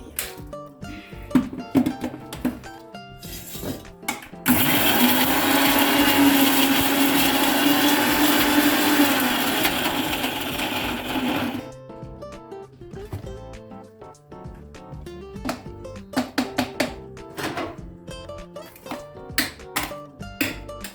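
Mixer grinder blending green chilli chutney made with mint and five green chillies, a loud steady whir for about seven seconds with shorter bursts and taps of the jar before and after.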